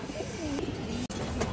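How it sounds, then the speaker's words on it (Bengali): A black female pigeon coos softly nearby in a few low, rolling calls, with a sharp click and a brief dropout midway. "খুবই সুন্দর একটা কালো কালো মাদি কবুতর"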